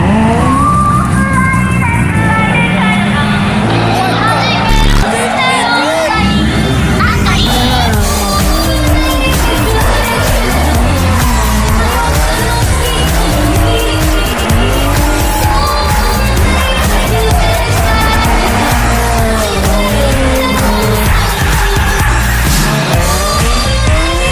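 A car drifts in Ebisu, Japan, with loud, sustained tire squeal and skidding over a revving engine close by, running nearly nonstop for over twenty seconds.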